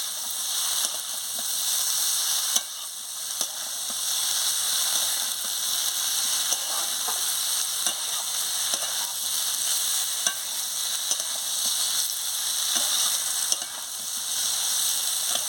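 Soybean and potato curry sautés in a pan with a steady, close sizzle throughout, broken by a few light clinks and stirring scrapes.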